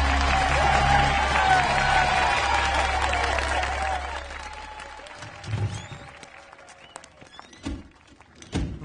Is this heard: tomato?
no